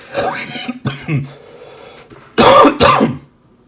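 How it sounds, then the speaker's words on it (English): Someone coughs a few times close by, with softer coughs first and then two loud, harsh coughs in quick succession. "Sorry for the cough."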